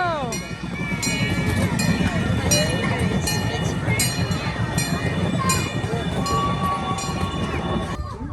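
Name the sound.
zoo train passing by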